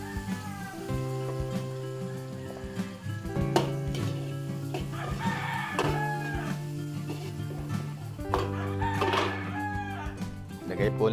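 Garlic sizzling in margarine in a pan for Batangas-style Filipino cooking, a frying crackle with stirring scrapes, while a rooster crows repeatedly nearby and a voice speaks briefly.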